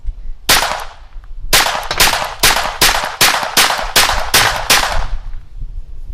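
Taurus TX22 pistol firing CCI Quiet semi-auto ammunition, about ten sharp, close reports: one shot, a pause, then a rapid even string of nine.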